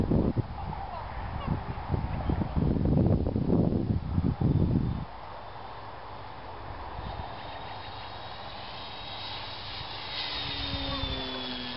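A modified Parkzone Spitfire RC model plane with a brushless motor flies overhead, giving a thin, steady electric motor whine. Louder wind and handling noise in the first five seconds gives way to the fainter drone as it passes.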